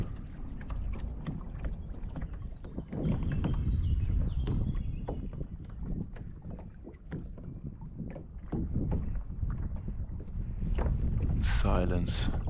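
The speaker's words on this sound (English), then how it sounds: "As soon as I stop paddling, I start going sideways and immediately the opposite direction" Paddle strokes splash rhythmically as a boat is rowed across a windy lake in a video game, with wind rushing steadily underneath and a voice talking briefly over it near the end.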